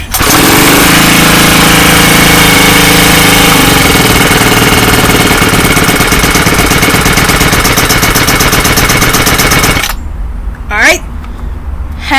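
A new lawn mower engine, checked after rain, runs loudly and steadily close by with a rough, rattling drone, then cuts out abruptly near the end, leaving quieter handling noises.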